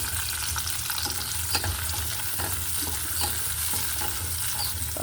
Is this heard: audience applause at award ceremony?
no